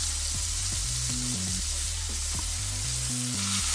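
Rack of lamb seared in a hot pan, held on its side with tongs, giving a loud, continuous sizzle and crackle up close with faint clanks and low background hum.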